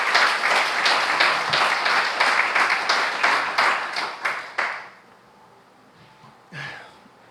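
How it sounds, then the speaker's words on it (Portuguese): A church congregation claps together in loud, rhythmic unison for a few seconds, then the applause breaks off, leaving a quiet room with a faint breath or shuffle. "Aplauda Ele, adore a Ele."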